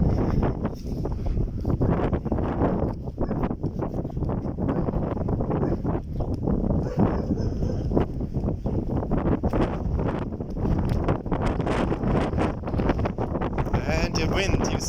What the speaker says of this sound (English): And the wind, you see it? That's the wind. You hear it live.